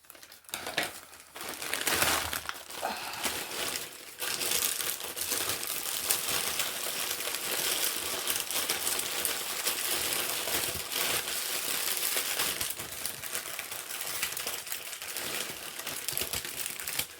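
A Temu haul package is cut open: steady, close crinkling and rustling of plastic packaging with small clicks, continuing for many seconds.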